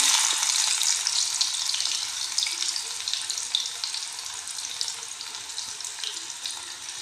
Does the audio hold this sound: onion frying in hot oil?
yes